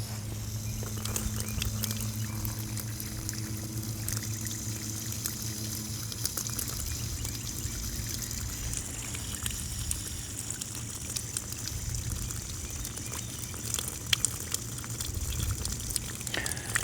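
Water leaks and trickles steadily from the top of an irrigation pressure vacuum breaker on a drip irrigation system after a ball valve is slowly opened, a continuous close splashing flow over a low background hum.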